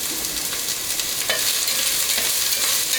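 Chopped onions fry in a pan for a lasagna meat sauce, giving a steady, close hiss with faint scrapes and stirring clicks throughout, and no voices.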